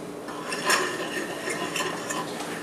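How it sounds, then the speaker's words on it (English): A fork mixes salt and pepper in a dish, scraping and clinking against it in quick, light, irregular strokes that sound close and fairly quiet. "I'm going to take all that and just mix it up a little bit with a fork"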